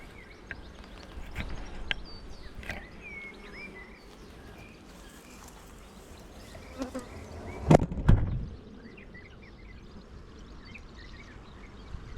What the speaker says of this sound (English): Have a look at some bees.